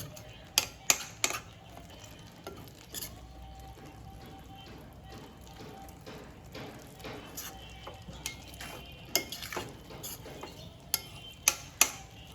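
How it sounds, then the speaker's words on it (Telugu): Egg biryani masala with onions frying in a pan, a soft steady sizzle under repeated sharp scrapes and clinks of a spoon stirring against the metal. "ఒక నిమిషము ఇవి కొంచెం ఫ్రై అయితే కానివ్వండి"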